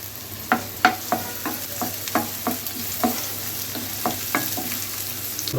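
Whole garam masala hits hot oil while Bengali-style spiced brain curry is being cooked, giving a soft steady sizzle with a dozen or so crisp spoon taps and stirs spaced irregularly across the clip, close and without talk.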